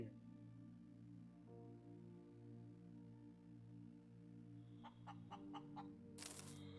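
A chicken in the video game Breathedge gives a short run of faint, quick clucks near the end, over a quiet, low background hum.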